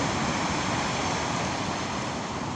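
Heavy, continuous roar of rough stormy Black Sea surf and wind at Lazarevskoye, Sochi, a dense wash of crashing water with no pauses, loud and close.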